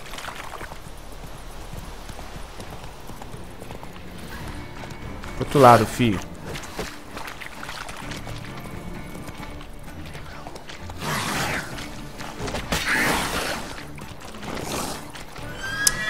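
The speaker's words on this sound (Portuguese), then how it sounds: "o cavalo não vai aqui, não" A horse in The Witcher 3 whinnies loudly once, with further game horse sounds and hoof noise later amid background game audio, while someone talks over it.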